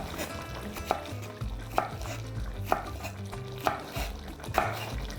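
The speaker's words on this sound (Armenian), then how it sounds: "Մեկ կծու ծիծակ կտրատում ենք շեղակի և ավելացնում ենք" A hot chili pepper is sliced diagonally on a board for khashlama, each cut a crisp knife knock landing at an even, unhurried pace, five clear strikes close up with no talking.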